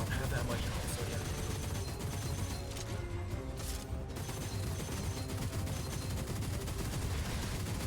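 Sustained dense gunfire in a video game, a steady loud clatter of rapid shots filling the whole stretch with little pause, mixed with game noise and a player talking over it.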